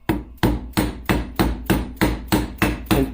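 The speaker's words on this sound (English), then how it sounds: "push down on the seal and then just tap it down. When the sound changes, you know you have reached the bottom of this shoulder." A new fork seal is tapped into the fork of a BMW R65 Airhead motorcycle with a seal driver and hammer: nine steady, evenly spaced sharp taps, close and clear with no talking.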